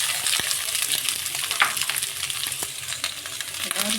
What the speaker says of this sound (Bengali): সবজিগুলো দিয়ে দিচ্ছি।